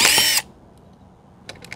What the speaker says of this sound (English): So now we gotta screw some screws into the ramp.